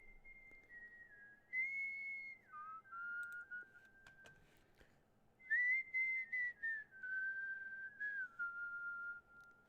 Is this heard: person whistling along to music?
yes